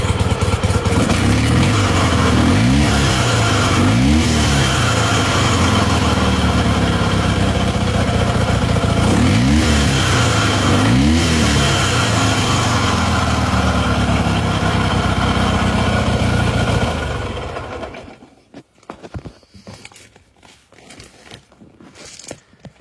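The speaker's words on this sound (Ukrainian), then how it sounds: "Тепер саме цікаве, на холодну, просто додаю газу." A cold KMZ Dnipro motorcycle, a solo chopper build fitted with an IKOV 638 carburetor, idles loudly with several quick throttle blips rising and falling in pitch, then the engine cuts off into near quiet with scattered faint noises.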